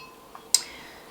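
Cooling caramel in a flan pan gives a soft tick and then one sharper, brighter crack, both faint and isolated in a quiet kitchen.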